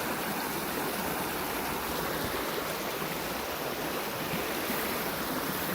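A flooded creek rushes with massive amounts of water, a steady, loud, dense roar that stays continuous and unbroken throughout, with no voices.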